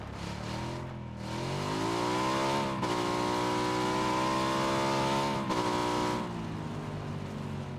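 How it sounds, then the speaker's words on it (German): A motorcycle in the video game PUBG revs up, its engine climbing in pitch and holding a loud, sustained whine, dropping briefly before winding up again, close and alone without talk. "So, ich nehme das Motorrad gleich mal mit."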